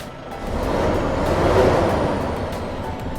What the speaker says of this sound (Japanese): じゃあちょっと吹かしてみます。